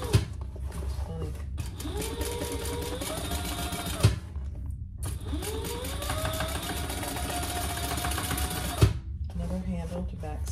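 Sewing machine back stitching over a handle on a vinyl storage caddy: two long runs of steady mechanical whirring, each rising in pitch as it speeds up, broken by short pauses and sharp clunks, close and loud.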